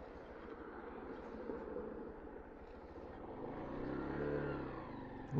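Honda Monkey motorcycle engine on the move, a steady mid-pitched drone that swells as the rider opens the throttle near the end, no talk over it.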